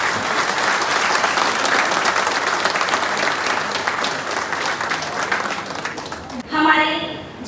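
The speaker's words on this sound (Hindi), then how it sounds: "एक जोरदार तालियों के साथ इस सभा का शुभारंभ करें" Audience applause from a large gathering opening a bank officers' association meeting in India, steady dense clapping that fills the clip before fading as a voice begins speaking near the end.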